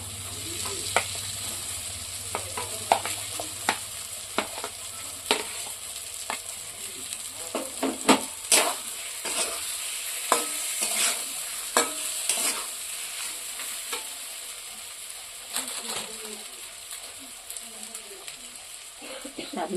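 Potatoes and pointed gourd frying in a spice paste, with a soft continuous sizzle broken by frequent sharp clicks and scrapes of a spatula stirring the pan.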